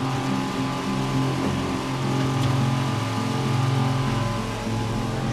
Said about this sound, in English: and that's the sound of the water maker working itself.